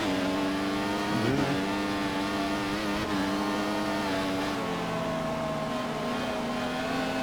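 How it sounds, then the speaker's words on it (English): A Formula One race car in the F1 2014 video game at a soaked China circuit spins its wheels, a steady high engine whine holding at a constant pitch with a brief waver early on, moderately quiet and with no talk. "Vern, I hear you wheel spinning, but I don't see you wheel spinning."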